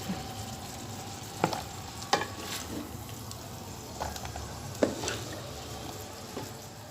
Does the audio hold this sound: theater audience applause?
no